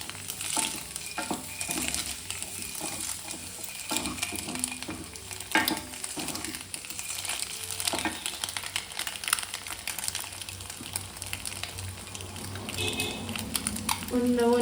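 Eggs for egg biryani fry in oil, giving a soft, continuous sizzle with frequent scraping and stirring taps, close but fairly quiet, while a person talks over it.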